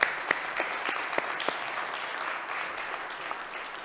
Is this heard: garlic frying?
no